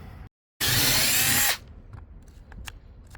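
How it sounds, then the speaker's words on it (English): A power drill whines loudly for about a second, drilling holes in an RV, then cuts off, followed by faint clicks and handling noises. "we can go ahead and drill those out too."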